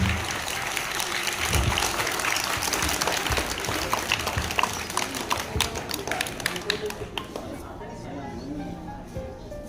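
Crowd of students and parents clapping at a school Independence Day celebration, a sustained burst of applause that thins out toward the end, with a voice speaking over it.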